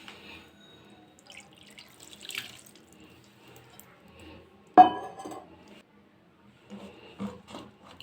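Water is splashed into a pot of bata fish being prepared as a chorchori with bitter gourd and potato, a brief pour and drip in the middle of quiet kitchen clinks.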